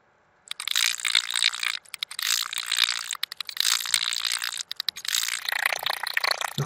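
An embroidery machine stitches a border design, giving a loud, fast rattling clatter in sustained bursts broken by brief pauses, close and continuous with no talk.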